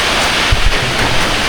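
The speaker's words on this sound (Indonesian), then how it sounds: "Ini masih hujan rintik-rintik begini." Light drizzle falls steadily during a roadside rest stop by a fertilizer and grocery shop on the way to Merapi, Yogyakarta, a constant soft hiss of fine rain with a couple of faint low thumps.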